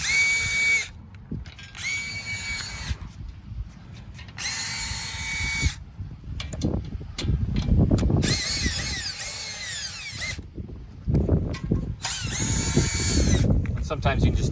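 A power drill spins acorn nuts off the top bolts of a Homecrest sling patio chair, whirring in repeated bursts of a few seconds each with short pauses between them, close and loud, with some handling noise in the gaps.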